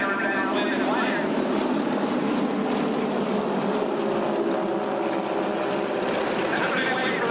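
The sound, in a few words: T-34 training aircraft flying overhead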